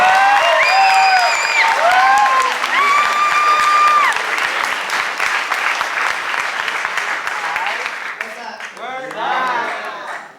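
An audience at a live poetry event applauds loudly with sustained clapping and whistled cheers, then the applause tapers off and a voice starts speaking.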